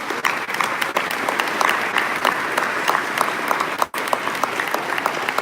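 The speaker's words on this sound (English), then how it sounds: "Please give a round of applause." A seated audience breaks into steady, sustained applause at a cultural music event marking the Warsaw Uprising anniversary, a dense continuous patter with a brief dip partway before the clapping resumes at full strength.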